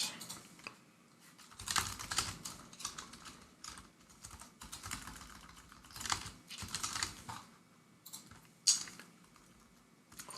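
Fingers type on a computer keyboard in uneven bursts of quick clicks and clacks, with short pauses between flurries. The keystrokes are close and moderately loud, with no talking.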